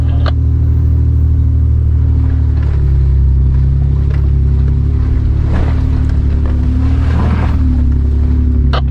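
A Toyota 4Runner on Toyo RT trail tires climbs an off-road trail in two-wheel drive, its engine holding a steady loud drone close by with low rumble throughout and no talk.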